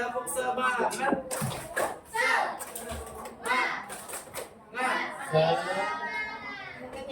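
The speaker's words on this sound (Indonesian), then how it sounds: "mari kita tepuk semangat" Children in a classroom clap in a quick rhythmic spirit-clap pattern while chanting along together, loud and close, with voices mixing into the claps.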